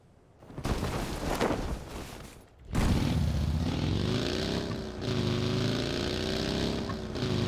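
A PUBG tractor engine starts after a few seconds of scattered game noise, then runs loud and steady with a low rumbling tone that shifts slightly in pitch as it moves.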